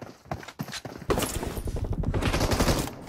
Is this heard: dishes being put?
no